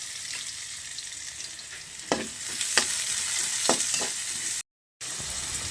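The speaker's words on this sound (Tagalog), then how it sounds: "Gigisa na natin." Aromatics sauté in a hot kawali with a steady, bright sizzle, punctuated by several sharp scraping stirs of a utensil, with a brief dropout near the end.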